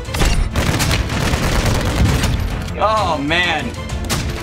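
Weak gun fires in a Warzone match, a burst of rapid shots mixed with impacts, close and loud, while a player talks over the action.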